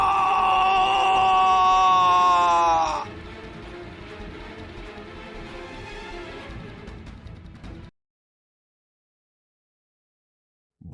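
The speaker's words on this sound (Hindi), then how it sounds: "अंत में सरपंच की भी चीख सुनाई" The village headman in a horror story lets out a loud, anguished scream, a wavering high cry that breaks off after a few seconds into a rough, dwindling groan before falling silent.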